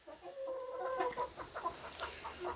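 Chickens cluck inside a chicken coop, with a short run of soft, close clucks and low murmuring calls from a few birds, quiet and without talking.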